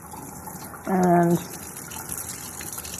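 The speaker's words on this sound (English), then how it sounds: "don't forget to wash the bird. Very important to start with a clean bird. Cold water inside, neck cavity," Cold water from a tap rinses a raw bird inside and through the neck cavity before roasting. A steady soft hiss of running water carries a brief squealing surge, and a voice says a single word.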